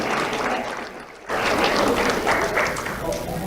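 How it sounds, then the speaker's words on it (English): Audience applause at a school awards event for a life skills class, broad crowd clapping that dips briefly then swells back loud and steady. "Let's have a round of applause for Mrs."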